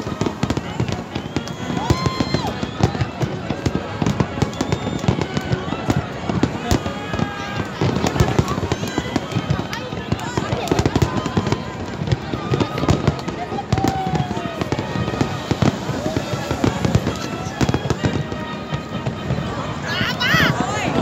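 New Year's Eve fireworks burst over Icaraí beach in a dense, irregular barrage of sharp bangs and crackles, loud and near, with crowd chatter and voices running underneath throughout.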